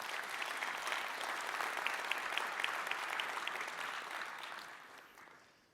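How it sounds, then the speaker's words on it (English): A conference audience breaks into a long, steady round of applause with dense clapping throughout, loud and close at first and gradually tapering off toward the end. "can we have a massive round of applause for the awards they'll get?"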